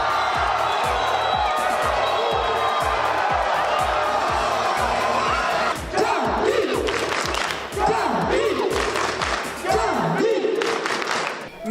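At a handball match, a packed crowd roars and cheers over a rhythmic thumping beat, with shouts and whoops swelling in waves partway through as the drumming drops out.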